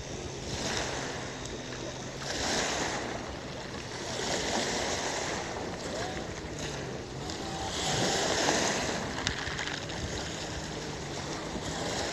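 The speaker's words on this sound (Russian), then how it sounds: "Прям хорошие волны такие хлещут." Surf from the Black Sea surging and washing ashore near Novorossiysk, a steady broadband wash that swells and recedes in several waves over about twelve seconds, with wind buffeting the microphone and no voices.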